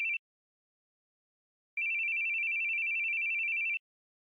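A telephone rings with a steady electronic tone, a brief burst followed by a long continuous ring after a pause, clear and moderately loud with no voices.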